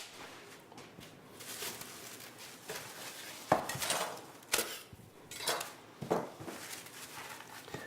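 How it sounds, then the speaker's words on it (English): Cling film is pulled and crinkled around salmon gravlax in a kitchen, giving soft rustling and crackling with a few sharper taps and clunks against a board or dish, fairly quiet and without talk. "Cling film that up."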